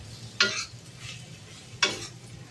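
Crushed green peas sautéed in a pan for veg kheema, with two quick, close scraping stirs of a spatula over a faint, steady sizzle.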